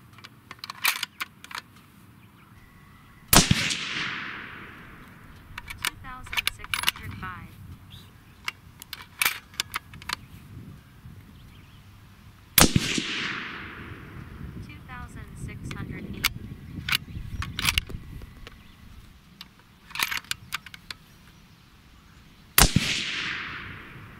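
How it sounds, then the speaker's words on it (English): Three loud, sharp rifle shots from a Springfield Waypoint 2020 firing Berger Elite Hunter ammunition during accuracy testing, widely spaced, each with a ringing outdoor echo trailing off, with quieter handling noises between. "We're gonna probably aim for the left corner on that diamond and just start shooting."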